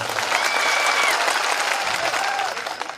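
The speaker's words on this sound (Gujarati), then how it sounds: "બધા જ માટે એકવાર આપણે જોરદાર તાળીઓ પાડી લઈશું." Loud, dense applause from a large audience at an outdoor political rally, continuous clapping filling the space for about three seconds before tapering slightly at the end.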